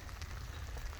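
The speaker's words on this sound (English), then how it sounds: "we officially got rained out" Steady rain patters on surfaces outdoors during a spring turkey hunt on public land, a dense, even hiss of drops with no talking.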